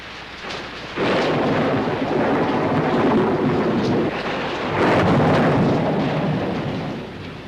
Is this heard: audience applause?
no